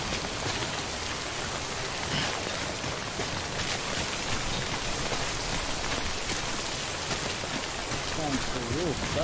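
Steady rain falls in the video game Death Stranding, a dense, constant hiss of drops on surfaces that goes on unbroken, with faint warbling tones near the end.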